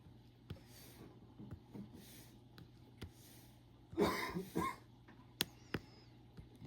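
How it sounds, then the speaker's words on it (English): A few faint coughs from a distant person with a bad cold break a quiet room, one cluster of harsh bursts followed by a couple of softer ones. "you hear someone coughing, my son is not too far away on his computer and he's got a bad cold."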